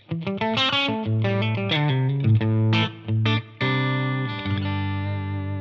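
Electric guitar on the neck pickup in split-coil mode, played through a TONEX tone model with chorus-like effects, picking a melodic phrase of ringing single notes and chords, loud and close.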